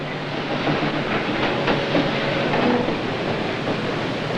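A train rolls past on railroad tracks at close range, a steady loud rumble with faint rhythmic clatter and a light metallic squeal, continuous throughout without any talking.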